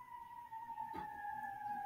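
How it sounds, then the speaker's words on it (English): A police siren passes outside, a faint, steady wailing tone heard from a distance, with a brief soft thump partway through. "You hear the sirens?"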